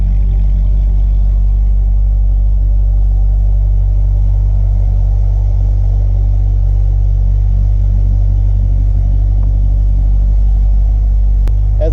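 A Corvette C6 Z06 idles steadily and close by, its engine and exhaust giving a deep, continuous low rumble that holds even for the whole stretch, with no voices over it.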